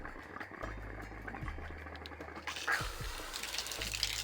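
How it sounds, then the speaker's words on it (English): Water is pushed through 30 metres of pipe on an automatic garden hose reel, giving faint gurgling, bubbling and sputtering over a low steady hum, with a brief burst of splashing near the end. "And the water's coming through."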